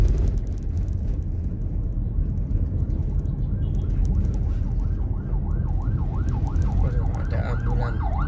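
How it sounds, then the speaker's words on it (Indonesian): An ambulance siren wails on a quiet city street in Malang, rising into a clear repeating up-and-down yelp over steady traffic rumble, growing louder as it approaches near the end. "Aduh, ada ambulan."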